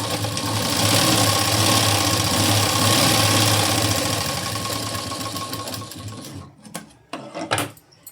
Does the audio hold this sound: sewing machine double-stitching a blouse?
yes